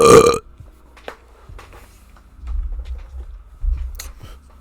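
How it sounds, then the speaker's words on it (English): A single loud, close human burp bursts out at the very start, followed by quieter low rumbling and scattered small noises. "I'm burping."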